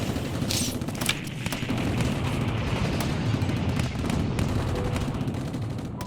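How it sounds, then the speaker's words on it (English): Continuous rumbling booms and crackling blasts in Steins;Gate 0, like explosions and gunfire rolling in from a distance, with sharp bursts scattered throughout. "She heard an explosion in the distance."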